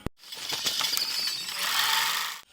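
Handling and stitching of a homemade skydiving tracking suit yields a dense, continuous rustling and clicking texture, with a sharp click at the start and the busy mechanical sound running steadily close by for a couple of seconds.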